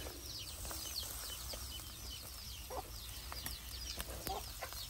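Village chickens cluck and call at a distance, short scattered notes over a steady outdoor background hum.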